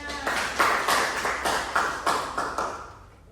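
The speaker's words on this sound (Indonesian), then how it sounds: "Beri tepuk tangan untuk Pina." A school class claps for a pupil in a rhythmic group clap, around eight or nine even beats in a small room, close and moderately loud, tailing off at the end.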